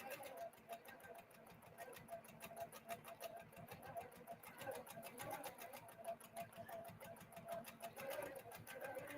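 A domestic sewing machine doing free motion quilting runs in a steady, fast needle rhythm throughout, close and even, with a faint voice talking underneath.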